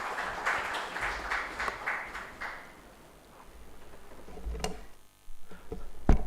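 Audience applause at a valedictory ceremony as a senior advocate of the Delhi High Court is called to address the gathering: a few seconds of scattered, rhythmic clapping that fades, then low room noise with a couple of sharp knocks and handling sounds.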